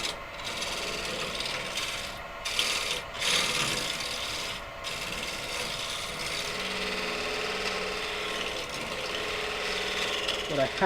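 A scraper cutting a burr elm platter spinning on a wood lathe, a steady close rasping scrape over the lathe's hum, with a few brief breaks in the cut throughout.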